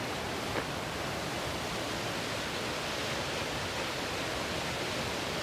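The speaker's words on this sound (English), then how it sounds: "The Arkansas River, and this is the headwaters." The Arkansas River at its headwaters near Buena Vista, Colorado, rushes in a steady, loud, broadband roar of flowing water that holds constant throughout with no pauses.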